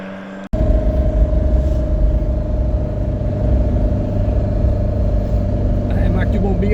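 A 1970s Alpine A110 with 122 HP and four carburettors drives along, its engine a loud, steady, close rumble with a sustained drone heard from inside, starting after a brief cut, while occupants talk over it.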